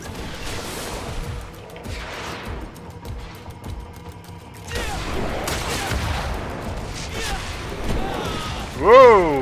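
A machine gun fires during a Greedfall battle, with scattered rapid gunshots and mechanical clatter under voices, building in intensity and ending in a loud whistling burst.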